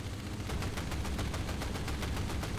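Rapid automatic gunfire from the video game Battlefield Heroes rattles off in a fast, even stream of close, loud shots lasting a few seconds, with no talking over it.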